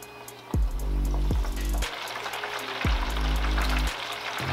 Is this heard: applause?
no